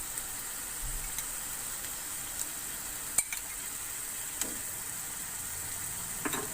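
Yogurt sizzles softly in a hot pan as it is stirred in for a kata kat dish, a steady quiet hiss with a few light clinks of a utensil.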